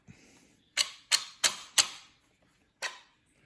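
Sharp metallic clicks as a bolt is pushed into a Remington 870 shotgun trigger assembly: four quick clicks in a row, then a fifth after a pause, close up and alone in a quiet room.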